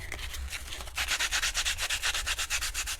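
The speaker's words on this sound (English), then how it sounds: "So now we've got it something like shaped, maybe a bit of sandpaper" Sandpaper rubbed by hand to smooth the rough edges of a shaped piece for fitting LED touch lights, starting with a few light strokes, then a steady run of brisk, rhythmic back-and-forth scrapes up close.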